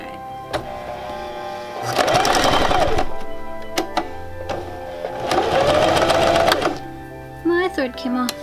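Sewing machine stitching fabric for a Renaissance fair pouch, running in two loud sustained bursts of rapid whirring needle clatter, with someone talking between and around the bursts.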